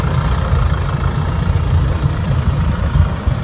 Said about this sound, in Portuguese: esse ronco do motor a diesel é show demais